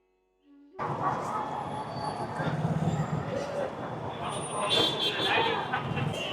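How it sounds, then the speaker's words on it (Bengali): Train pulling out of Nabadwip station on an air-conditioned service bound for Mayapur, a steady broadband rumble of wheels and carriage noise building after a brief quiet start and continuing loud and close throughout. "ফাইনালি আমাদের ট্রেন ছেড়ে দিয়েছে"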